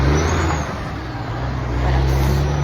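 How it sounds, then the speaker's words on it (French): A heavy truck rolls past on a road with a continuous loud low engine rumble and tire roar that dips briefly, then swells again as it goes by close. "Regardez-moi ce camion."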